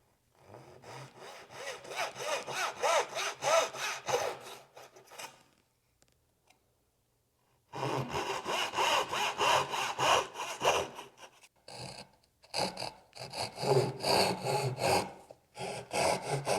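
A hand saw cuts away wood to fit a mortise and tenon joint in rapid back-and-forth strokes. Two long bursts of sawing are split by a pause, and a few shorter bursts follow, all close and clear.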